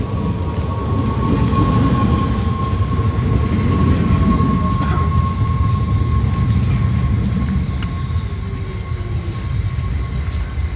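A train rolls into a station serving Amsterdam Airport, a steady heavy rumble of wheels on rails with a faint high whine and occasional metallic clicks, loud and continuous.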